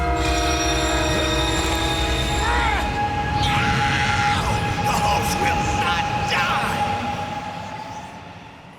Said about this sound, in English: Seeing Jenny on the track, an oncoming train hits Jackie.